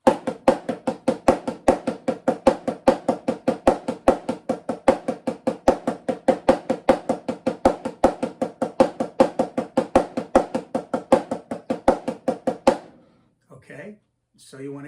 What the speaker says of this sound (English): It has a bunch of double paradiddles, and then it ends with 2 single paradiddles